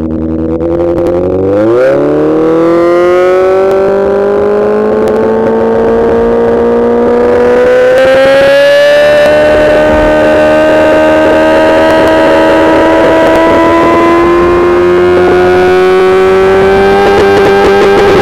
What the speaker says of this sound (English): Would you like to listen to Z800 once again?